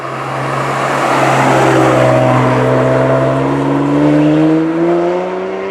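A BMW 1 Series M car drives steadily, its engine note rising gradually as it accelerates, a loud continuous drone with no talk over it.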